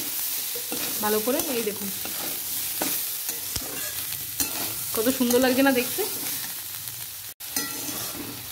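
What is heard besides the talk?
stirring turmeric into frying food in a pan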